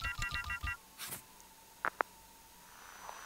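Telephone keypad tones beep in a quick series at the start of a phone check in the detective game Shadows of Doubt, then a couple of sharp electronic blips follow over a quiet hum.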